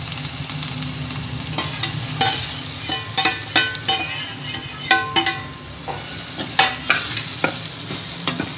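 Crumbled lentil usuli is tipped into a hot pan and stirred, giving a soft sizzle with repeated scraping strokes of the spoon at an irregular rhythm, close and fairly loud, with no talk.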